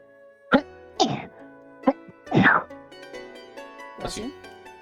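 A short burst of sneezing stands out among several sharp vocal bursts, close and loud, with people talking around it.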